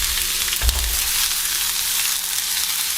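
Onion sizzles loudly in hot oil in a pan, a dense, continuous frying hiss with a short thump early on as it goes in, no voices.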